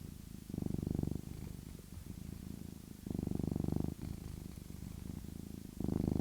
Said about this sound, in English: Now he's purring.